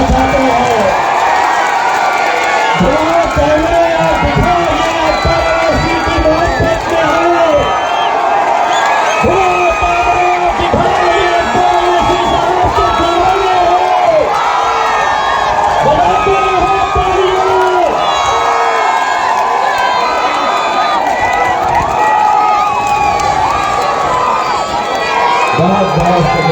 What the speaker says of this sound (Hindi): जोरदार तालियों से अकबर अवैसी साहब का शुक्रिया अदा करिए